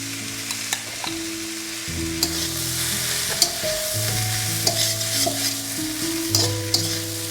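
Quinoa rice with mushrooms and sweet corn stirred in a pan, a loud close sizzle with repeated scraping and clinking strokes at an irregular rhythm, with no talking.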